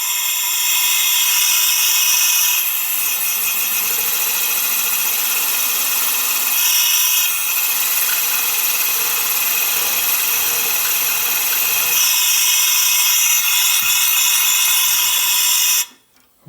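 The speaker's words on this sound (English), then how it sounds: "what I've got here is a little countersink bit" An air-powered drill fitted with a small countersink bit, used while fitting a full-flow oil system on a VW Bus, gives a loud, steady whirring drone for about sixteen seconds before cutting off abruptly.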